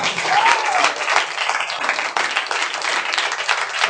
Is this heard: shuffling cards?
no